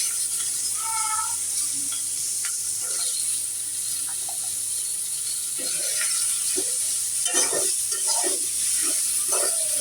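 Pointed gourd frying in a spiced pan, a steady close sizzle and hiss running throughout, with intermittent stirring scrapes and clatters growing busier toward the end.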